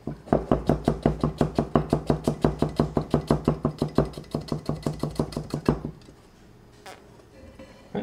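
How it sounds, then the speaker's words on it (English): A chef's knife push-cuts on a cutting board in a fast, steady run of about thirty crisp, close knocks, then stops and leaves near quiet with a faint stray tap. "I will try to push cut on camera"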